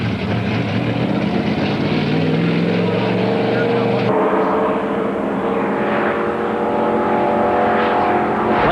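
A Winston Cup stock car driven at about 130 to 140 miles an hour at Charlotte Motor Speedway, its engine roaring loud and close with a continuous drone that shifts pitch partway through as it moves through the gears.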